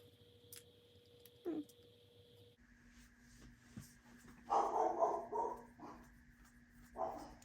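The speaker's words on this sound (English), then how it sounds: "Let me just see what my dog's barking at." A pet dog barks indoors in a short burst around the middle, then a louder run of barks and a final bark near the end, faint against a quiet room with a steady electrical hum.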